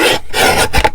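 A paper trimmer slicing through cardstock in a craft session, a steady close rasping scrape lasting about a second with a brief pause mid-stroke.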